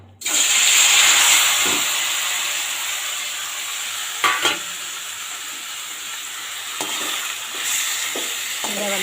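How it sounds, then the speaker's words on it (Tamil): Chicken pieces marinated in yogurt and salt hit hot oil with a loud hiss that settles into a steady close-up sizzle, broken by occasional stirring knocks. "எண்ணெய் நல்லா சூடானதுக்கப்புறமா இந்த பீஸை வந்து இதில் சேர்த்துருவோம்."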